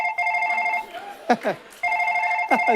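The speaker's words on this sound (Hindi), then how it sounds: "ग्राहक के फोन भी आने शुरू हो गए हैं।" A telephone rings in steady electronic bursts, stopping briefly while a voice speaks over a gap, then resuming, all in an indoor comedy-show scene.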